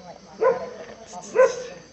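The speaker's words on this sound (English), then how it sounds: "That's why the dogs are going crazy." Dogs bark at passers-by in an evening outdoor setting, two distinct loud barks about a second apart, with faint voices and background noise between them.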